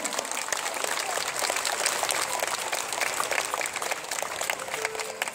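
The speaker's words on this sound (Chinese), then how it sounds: "掌声响起来。" Applause from a studio audience at a staged show, a continuous crackle of many hands clapping at moderate volume for several seconds, slightly easing toward the end.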